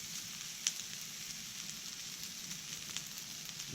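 Brisket sizzles on a hot cooking disc, a steady soft hiss and crackle with a few small pops, fairly quiet and continuous with no talk.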